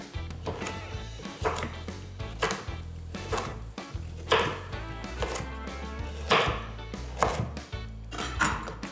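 Knife chopping carrot into large chunks on a cutting board, a steady run of sharp, close thuds at an uneven pace, some struck harder than others, with no voices over it.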